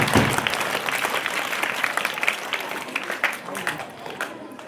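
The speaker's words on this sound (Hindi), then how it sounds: "सबसे लंबी तालियां हो जाएं।" An audience at a Mother's Day children's drama show claps in loud, sustained applause. The dense clatter of many hands slowly tapers off, and voices can be heard through it.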